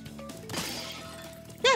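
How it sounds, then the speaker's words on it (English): Glass shatters in Spyro: Year of the Dragon, a single crisp crash with a bright scattering tail over soft game music, ending with a short voice. "Sound like broken glass"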